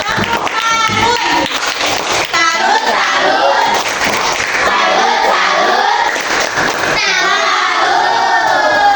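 Children in a fourth-grade primary school classroom clap and cheer for a group that has just presented, a loud, dense burst of applause and shouting voices with some children calling out over the noise.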